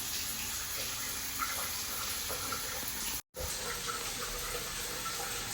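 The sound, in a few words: water running out of a shower head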